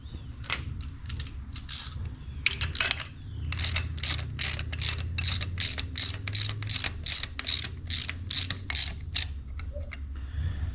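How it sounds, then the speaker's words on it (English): A valve spring compressor levered against a rocker arm nut and stud to compress an engine valve spring, producing a close series of sharp, evenly spaced metallic clicks and ratcheting snaps with no talking. "We've got our valve spring compressor, which goes on like so."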